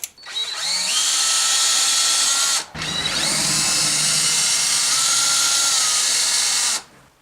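A power tool with a socket extension whirs loudly in two long sustained runs, broken by a brief pause, while it removes bolts near a car's turbo oil line.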